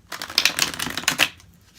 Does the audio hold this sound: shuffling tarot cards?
yes